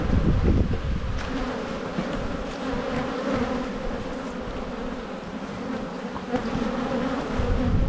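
Honey bees buzz steadily around an open beehive during a brood inspection, a dense, close swarm drone that holds from start to end with no talking.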